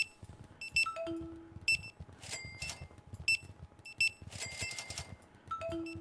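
Electronic alarm beeps in Internet Cafe & Supermarket Sim sound in repeated short bursts of high tones, some sliding down in pitch, over a faint background bed.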